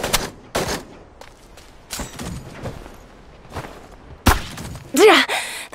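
Shots fired in the mecha shooter game Super Mecha Champions, heard as several sharp, loud bursts spread across the moment, with a heavier hit and a rising electronic effect near the end.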